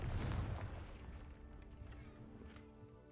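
A Confringo explosive spell from the video game Hogwarts Legacy bursts with a deep, loud boom, then fades into a rumbling decay that lasts about three seconds.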